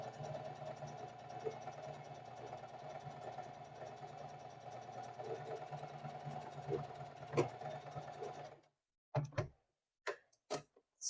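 A Singer 4423 heavy-duty sewing machine stitches through doubled denim with a steady, close mechanical whir and rapid rhythmic ticking for about eight seconds, then stops, followed by a few soft handling knocks.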